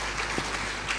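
An audience applauds a Paramount Queen Mother at an International Women's Day gathering, a steady wash of many hands clapping with a few louder claps rising from the crowd.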